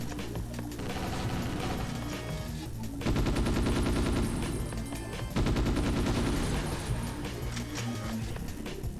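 Gunfire in the video game Ghost in the Shell: Stand Alone Complex, a loud, dense stream of rapid shots and automatic bursts lasting throughout, without speech.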